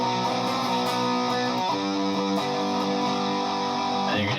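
Distorted guitar rings out an A-major-shape chord riff from a song, adding the major third, in a few quick strummed hits that sustain and then cut off, played alone.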